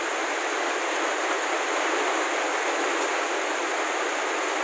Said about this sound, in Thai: ไม่ได้ถ่ายภาพใกล้ๆนะคะเพราะว่าฝนตกหนักนะคะ